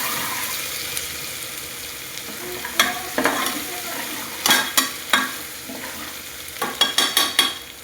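Oil sizzles and fries in a pan on a low gas flame while cooking garlic rice, a steady hiss broken by several sharp crackling bursts and spatters, close and alone with no talk.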